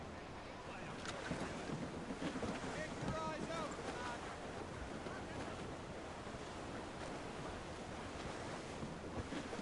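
Sailing ship at sea in Assassin's Creed Rogue: steady rushing waves and wind across the whole stretch, with brief faint voices in the middle.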